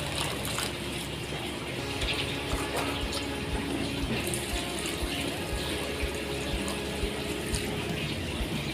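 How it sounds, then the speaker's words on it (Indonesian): Fermentation solution for maggot feed poured into a bucket over organic material, a steady close gushing splash of liquid filling the container with no talk. "kita masukkan dalam ember bahan organik ini, ya, kita beri larutan ini, kita rendam ya"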